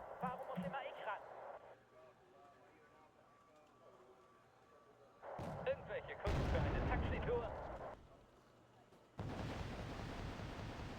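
Mortar rounds firing and exploding in a military video game, booming blasts with rumbling tails and bursts of noisy crackle between them, interleaved with voices that talk over the action.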